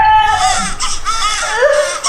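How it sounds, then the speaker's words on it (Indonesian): A baby wails loudly and continuously close by, in sustained rising and falling cries with brief catches of breath between them. "terdengar tangisan suara bayi"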